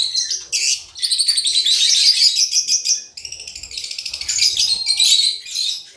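Caged African lovebirds chatter in dense, shrill, continuous chirping close by, with one brief pause midway before the flock resumes just as loudly.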